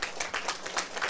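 An audience bursts into lively clapping at a Taiwan Civil Government event in the United States, with dense, rapid claps from many hands filling the room throughout.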